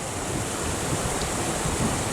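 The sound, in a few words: water flowing out of a canal lock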